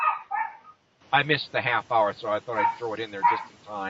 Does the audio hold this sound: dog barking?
yes